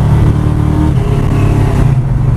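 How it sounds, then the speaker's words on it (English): A 1980 Dodge with a 318 V8 and 727 automatic transmission pulls hard under full throttle, a loud close engine roar climbing in pitch and dropping briefly as it shifts, heard from inside the car. "see how this transmission shifts under floored condition, see if I can get a reasonable takeoff with it"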